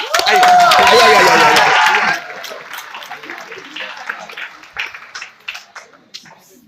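Loud live-event crowd applause and cheering at a YouTube meetup stage show fade after about two seconds into scattered claps and murmuring.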